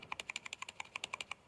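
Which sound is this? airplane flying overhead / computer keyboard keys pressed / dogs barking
computer keyboard keys pressed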